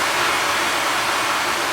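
A clap drenched in fully wet reverb with the decay pushed to maximum forms a dense, washy wall of diffuse noise that holds steady and loud for the whole stretch, with no dry attack audible.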